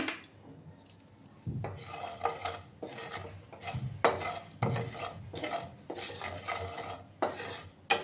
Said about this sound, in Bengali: এগুলোকে একটু হালকা ড্রাই রোস্ট আমি করে নিচ্ছি